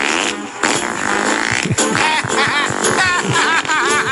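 Drawn-out farting noises, loud and close, with sputtering, rippling bursts and squeaky tonal wobbles in quick succession, on a raucous talk radio show.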